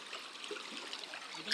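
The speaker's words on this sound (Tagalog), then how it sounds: "ang lakas ng agos ah" Steady rushing of clear river water running with a strong current at a shallow edge, a continuous broadband wash at moderate level, close and unbroken for the whole moment with no talk over it.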